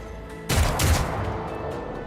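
A single loud gunshot blast in the video game Rogue Trader, with a short burst and a lingering rumbling tail.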